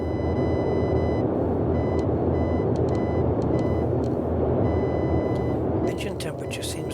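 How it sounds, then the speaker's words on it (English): Boeing 247D cockpit in Microsoft Flight Simulator, with a continuous loud engine drone and small repeated warning beeps pulsing faintly in the background; someone talks over it. "You can still hear little beeps in the background."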